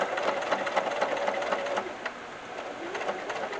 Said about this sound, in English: So I'll start it, do about 5 stitches, back it up, kind of lock that in